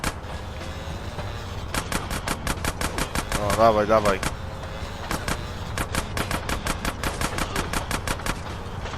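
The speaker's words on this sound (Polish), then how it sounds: "Tylko nie w pociąg, tylko w nich strzelaj." Rapid automatic gunfire in GTA San Andreas Definitive Edition, loud regular bursts of shots running through most of the clip with a brief pause, while someone talks over it.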